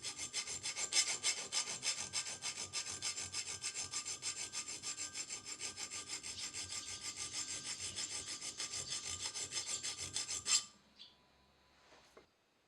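A metal file cuts a groove into a steel knife blade where the edge meets the handle: a steady, rapid, rhythmic rasping of back-and-forth strokes, close and continuous, stopping abruptly near the end, followed by a few faint clicks.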